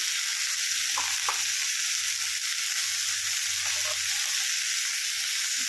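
Green chilli, dried Kashmiri chilli and turmeric frying in oil in a pan, giving a steady loud hiss of sizzling with a few soft stirring knocks, close and continuous.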